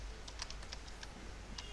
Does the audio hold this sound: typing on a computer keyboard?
yes